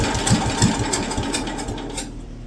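A Wisconsin AB military Signal Corps generator's small engine, flooded and running on two-stroke oil mix, sputters and chugs unevenly while trying to start, with loud, rapid irregular firing pulses up close.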